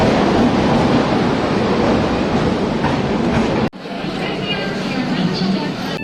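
Inside a crowded Shatabdi Express passenger train, a loud steady rumble of the moving carriage with a dense crowd murmur, cutting briefly before continuing slightly quieter.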